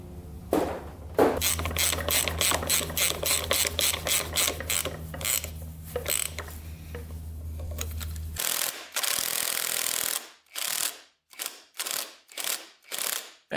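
A ratchet rapidly clicks while tightening a nut on a Suzuki RM125 dirt bike, a long close run of even ticks followed by a brief hiss and then several separate short ratcheting bursts.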